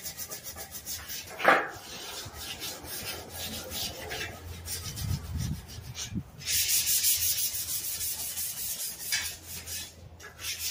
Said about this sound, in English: Sand it down so the paint will stick.